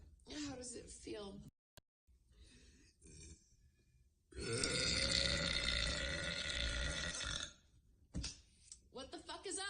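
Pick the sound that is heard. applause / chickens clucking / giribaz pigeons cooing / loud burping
loud burping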